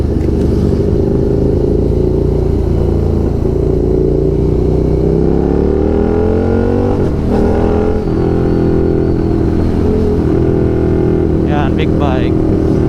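Big motorcycles ride along a road near Kaybiang Tunnel, their engines droning loudly and shifting pitch as they pass, with a rider talking over the steady engine noise.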